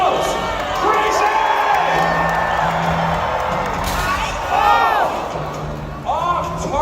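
A crowd cheers and whoops at a fencing bout at the PNE Playland fair in Vancouver, steady and loud throughout, with an announcer talking over it.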